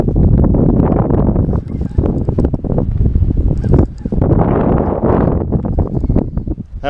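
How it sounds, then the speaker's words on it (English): Strong wind buffets the microphone outdoors on a catfish fishing trip, a loud continuous rumbling roar with gusty surges and no talking. "That wind is really picking up."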